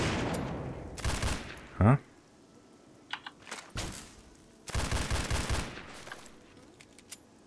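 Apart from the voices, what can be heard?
gunfire in the video game Fallout 3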